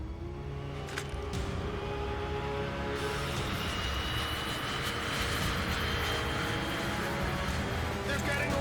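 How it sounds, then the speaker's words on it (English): Military-style training jet engines roar steadily at takeoff, a dense continuous rumble and whine that swells after the first few seconds and holds loud throughout, with no talk over it. "We'll escape with my training jets."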